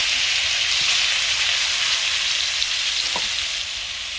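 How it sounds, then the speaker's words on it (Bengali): Koi fish fry in hot oil in a pan on a village-style stove, a dense, steady sizzle and crackle that stays loud and even throughout, with a brief faint clink partway through. "মাছগুলো এবার ভেজে নেব"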